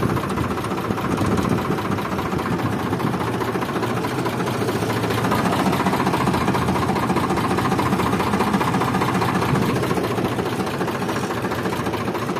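A steady, droning tractor engine runs continuously at close range with a low mechanical rumble and slight vibration, no breaks throughout.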